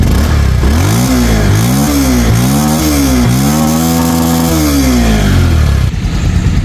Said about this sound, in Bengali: স্টার্ট করবো স্টার্ট করে সাউন্ড কন্ডিশন দেখাবো দেখেন একটা নতুন বাইকের যে সাউন্ড থাকে